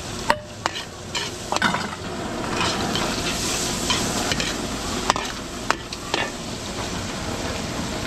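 Garlic and onion sauté in hot oil for Filipino kare-kare, giving a steady close sizzle with scattered clicks and scrapes of stirring and no talking.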